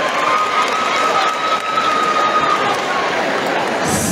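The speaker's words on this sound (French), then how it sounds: "Applaudissez pour elle, s'il vous plaît." Audience applauding and cheering for a contestant at the Miss Dary beauty pageant during the Festival Dary, a steady dense wash of clapping from a large crowd that continues throughout.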